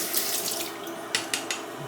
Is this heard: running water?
yes